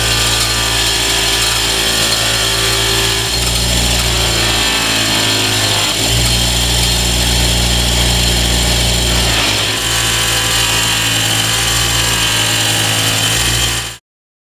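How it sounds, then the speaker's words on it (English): Buffing wheel on a bench power tool polishing a Mosin Nagant rifle part with compound, a steady loud motor whine and rubbing hiss running continuously, with load shifting as the part is pressed in, no talk. "It is just unreal what a buffing wheel can do."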